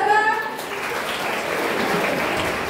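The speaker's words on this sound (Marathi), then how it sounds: "टाळ्या" Audience applause at a guidance session for teenage girls in Sangli, a sustained wash of clapping from a crowd, steady and moderately loud after a brief voice at the start.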